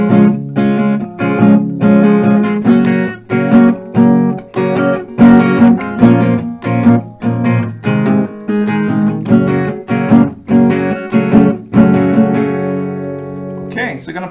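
Acoustic guitar strumming one round of the chorus chord progression from a song, rhythmic strokes with regular accents, played alone and fairly loud throughout.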